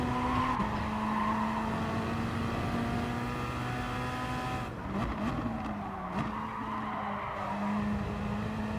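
Gr.3 race cars lapping Brands Hatch in the video game Gran Turismo Sport, a steady loud engine drone with gear shifts and bursts of tire squeal and skidding, continuous throughout.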